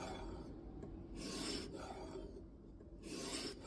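A Kizer Domin knife with N690 steel is drawn across a sharpening stone in repeated rasping strokes, about four close, quiet scrapes in a steady back-and-forth rhythm with nothing else heard.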